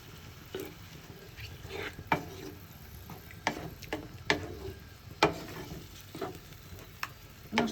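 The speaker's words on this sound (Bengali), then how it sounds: "মটর দিয়ে ভালোভাবে কষাবে" Peas stir-fried with spice paste in a pan, a continuous sizzle broken by repeated scraping strokes of a spoon at an irregular rhythm, close and fairly loud.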